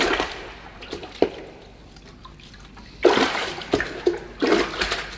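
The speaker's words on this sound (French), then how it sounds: "vous prenez un seau avec de l'eau claire et vous plongez le filtre dedans. Et l'objectif est de le secouer un petit peu" A sport air filter being dunked and shaken in a bucket of clear water, with soft sloshes and splashes, a quiet stretch, then louder bursts of agitated water near the end.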